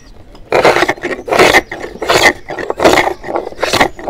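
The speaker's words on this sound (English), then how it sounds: "Then the next tool you use is a traverser." Traverser shaping the wooden seat of a Windsor chair, with about eight rhythmic, close-up rasping strokes against the wood, each followed by a short pause.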